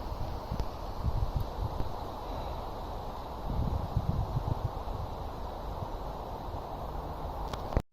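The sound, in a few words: wind blowing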